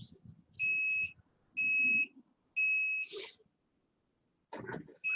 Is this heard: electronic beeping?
yes